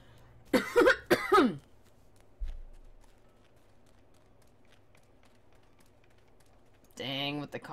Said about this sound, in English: Dang, with the coughing.